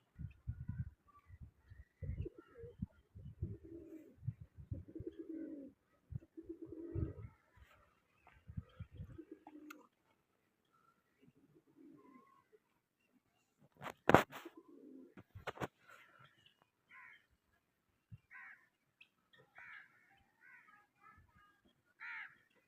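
Several pigeons call outdoors, with soft cooing and occasional harsher caws, in scattered bursts; a loud close clatter briefly breaks in midway.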